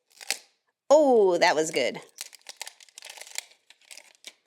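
Plastic blind bag packaging being torn and crinkled by hand in a series of short, close crackles, with a voice speaking over part of it.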